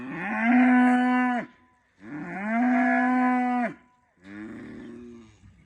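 Dexter cattle on a homestead mooing loudly and close by, two long drawn-out bellows followed by a shorter, rougher third call, with brief pauses between them.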